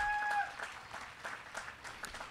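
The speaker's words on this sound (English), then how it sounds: "That deserves a round of applause, ladies and gentlemen" An audience at a Brentwood High School graduation ceremony breaks into moderate applause, a steady spread of clapping heard at middle distance, with a brief tonal beep near the start.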